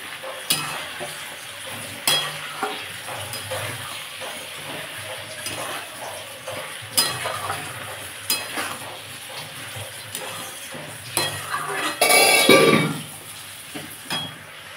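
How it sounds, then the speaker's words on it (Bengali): A spoon stirs and scrapes fish curry masala with chili powder and salt in a sizzling pan of oil. The scrapes come in repeated strokes over a steady fry, with a brief louder clatter near the end. "দিয়ে এটাকে আমি ভালো করে কষে নেবো"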